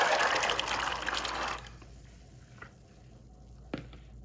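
Soaked kidney beans and water poured into a pressure cooker, a loud gushing splash for about a second and a half that then stops, followed by a few faint clinks and knocks.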